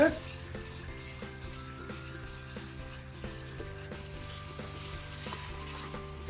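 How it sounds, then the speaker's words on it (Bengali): Beef pieces stirred and fried for a tomato beef curry, a moderate sizzle with intermittent spatula scrapes in a loose rhythm over a steady tonal hum, fairly quiet. "এখন আমি মাংসটা দেওয়ার পরে দুই থেকে তিন মিনিট এভাবে করে নাড়াচাড়া দিব"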